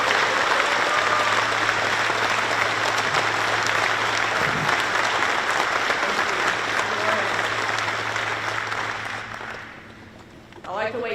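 An audience at an Arkansas economic development announcement applauds the state's governor as she is introduced, long steady clapping that tapers off near the end before a voice begins speaking.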